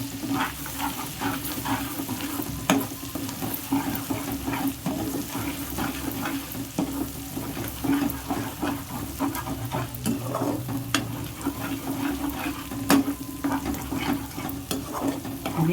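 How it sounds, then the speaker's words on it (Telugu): Freshly added ginger garlic paste frying for chicken pickle gives a steady, moderate sizzle with scattered crackles and occasional stirring scrapes, continuing evenly throughout. "అప్పటికప్పుడు వేసుకున్న అల్లం వెల్లుల్లి పేస్ట్ కూడా గోల్డెన్ కలర్లో వచ్చే వరకు బాగా వేగాలన్నమాట"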